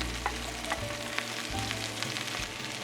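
Two cups of sliced onion fry in olive oil in a hot saute pan, giving a dense, steady sizzle with occasional stirring scrapes, close and continuous, with no voices.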